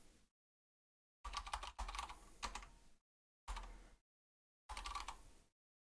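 Keys tapped on a computer keyboard while entering a new nickname, several short bursts of quick typing separated by silent pauses, close and fairly quiet.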